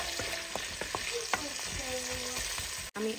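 Onions frying in oil with mustard seeds in a home kitchen pan, a steady close sizzle broken by scraping stirs and small pops, with a kitchen exhaust fan running; no one talks.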